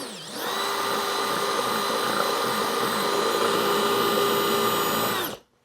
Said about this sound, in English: we're gonna drill through there too